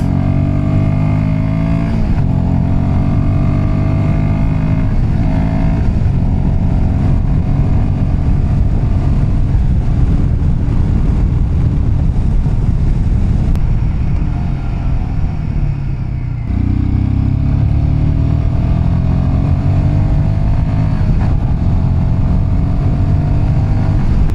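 Motorcycle climbing a mountain road in second gear, its engine droning loud and close with a steady throbbing note that shifts as the throttle rises and eases through turns.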